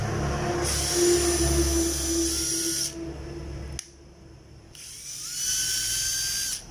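A cordless 12V drill, Makita or Hitachi, whines at high speed nearby, cuts out briefly, then spins up again in a steady, shrill run.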